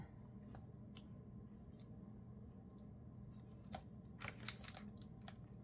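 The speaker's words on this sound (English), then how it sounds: "So we're cutting the envelope in half." Scissors snip through a paper envelope, cutting it in half for a papercraft pocket: a few faint, crisp clicks and cuts come late, sparse and close against a quiet room hum.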